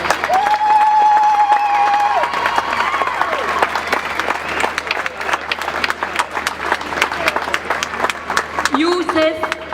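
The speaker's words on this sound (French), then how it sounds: "Un tonnerre d'applaudissements à Samar, s'il vous plaît." An audience at a vigil for the victims in Gaza breaks into sustained applause, dense clapping with some cheering and crowd noise that carries across the whole stretch, while a tone and a voice sound briefly near the start and end.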